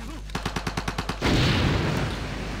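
Units firing in Civilization V: a quick regular burst of about eight sharp gunshots, followed by a loud sustained rushing volley that slowly fades.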